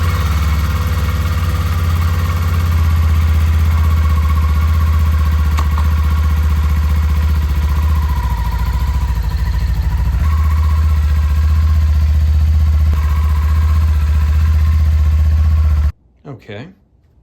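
A 2024 Kawasaki Eliminator motorcycle runs on its stock slip-on exhaust, a steady close low-pitched idle drone with slight fluctuations, cutting off abruptly near the end.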